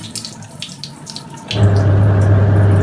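Water gushes in suddenly and keeps pouring steadily into an Electrolux EWS13262WA washing machine with a low mechanical hum beneath, after a few faint clicks and knocks at the start.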